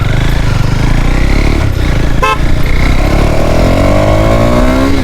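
KTM Duke 390 BS4 motorcycle engine revving loudly and steadily while being ridden, with rising engine tones toward the end and a brief horn-like toot in the middle, no talking.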